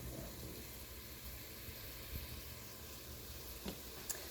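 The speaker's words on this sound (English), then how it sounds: "I'm just stirring around our vegetables as they're beginning to saute." Vegetables sautéing in a pan while being stirred, a soft steady sizzle with occasional faint scrapes and clinks, quiet and close with no talk.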